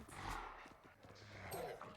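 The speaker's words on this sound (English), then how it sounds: "I'm gonna use my little doggy here." A dog summoned as an ability in a tactical shooter video game, its growls and barks rising loud in the mix over game effects and background sound, with brief talk nearby.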